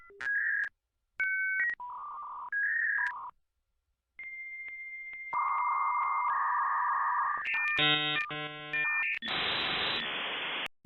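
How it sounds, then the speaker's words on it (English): A sequence of electronic beeps and tones, then warbling handshake screeches and a burst of hissing noise, like a dial-up modem connecting. "I was going to do a dial-up sound"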